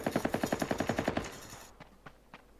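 Rapid bursts of automatic gunfire from players firing down from a tower in Ring of Elysium, about a dozen quick evenly spaced shots, then a few scattered distant cracks.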